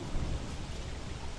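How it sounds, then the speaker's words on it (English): A rainy thunderstorm in the video game Don't Starve Together, with a low rumble of thunder under a steady wash of rain, faint and continuous. "It's a thunderstorm."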